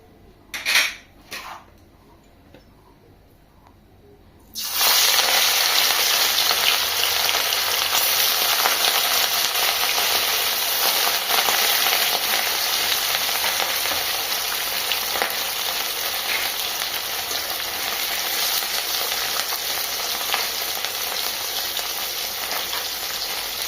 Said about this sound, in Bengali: এবার একে একে মাছগুলোকে দিয়ে ভেজে নেব